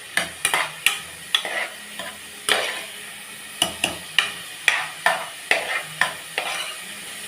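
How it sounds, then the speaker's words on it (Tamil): Food sautés in a pan over low heat while a spoon stirs it, about a dozen rhythmic scraping strokes sounding close over a soft, steady sizzle. "இது நல்லா வதங்கட்டும்."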